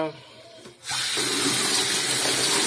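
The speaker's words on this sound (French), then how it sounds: "C'est l'eau du robinet." Tap water gushes from a faucet, hot and cold mixed, for aquarium water changing; a quiet start gives way to a loud, steady rush of running water that continues to the end.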